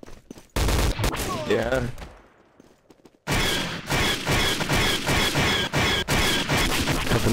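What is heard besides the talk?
gunfire in the video game Day of Defeat Source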